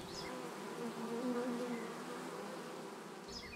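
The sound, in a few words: bees buzzing at a 15-frame queen-rearing hive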